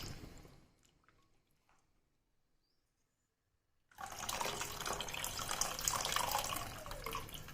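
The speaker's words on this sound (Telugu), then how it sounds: "తర్వాత చింతపండు రసం యాడ్ చేస్తాను" Tamarind juice is poured into a pot of ulavacharu biryani. After a quiet pause, a close, loud, continuous splashing pour of liquid runs for several seconds.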